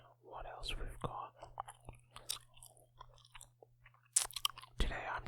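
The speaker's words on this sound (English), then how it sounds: "Today I'm just chewing some boring old peppermint gum." Peppermint gum chewed close to the mic, with soft wet smacks and clicks scattered among quiet whispering.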